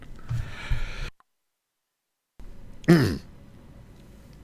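A single sharp cough bursts out after a pause, loud and close, preceded by low background clatter and followed by quiet room noise.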